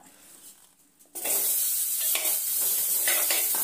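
After a quiet moment, a loud, steady sizzle bursts out as radish pieces hit hot oil, with occasional stirring scrapes.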